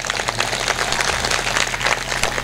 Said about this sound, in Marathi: त्या तिघांसाठी पण एकदा टाळ्या वाजवा